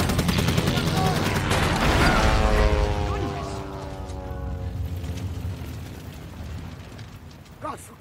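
Loud gunfire erupts in a rapid, dense burst lasting a few seconds, then fades into a lower rumbling tail with a last sharp crack near the end. A voice can be heard mixed in with the shooting.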